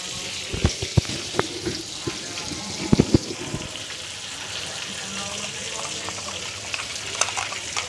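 Masala roasting in melted Amul butter for Mumbai street-style pav bhaji, a steady soft sizzle running throughout with a few sharp clinks of a utensil against the pan early on.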